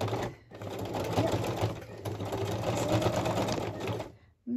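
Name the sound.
sewing machine back-stitching a journal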